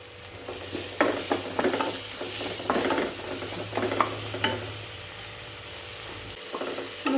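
Curry leaves fry in a pan for a jackfruit seed masala, sizzling steadily while a spoon stirs them in scattered scraping strokes. A low hum runs underneath, and no one speaks.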